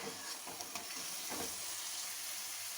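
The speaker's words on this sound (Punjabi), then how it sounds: "ਮਸਾਲੇ ਸਾਡੇ ਵਧੀਆ ਤਰ੍ਹਾਂ ਪੱਕ ਗਏ ਆ ਤੇ ਦੁਬਾਰਾ ਦੇਖੋ ਇਹਨਾਂ ਨੇ ਫਿਰ ਤੇਲ ਛੱਡਣਾ ਸ਼ੁਰੂ ਕਰ ਦਿੱਤਾ ਹੈ" Spice masala sizzles in oil in a pan while aloo gobi sabzi is cooked, a steady close frying hiss with a few soft stirring scrapes, no voices.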